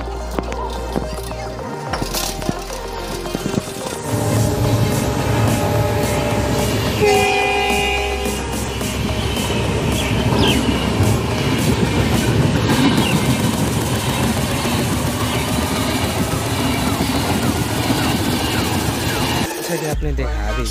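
A train rolls loudly and continuously through a railway crossing near Adhikari railway station, its horn sounding in clear blasts partway through, with heavy rumbling wheels and rail clatter dominating until the noise suddenly drops away at the end.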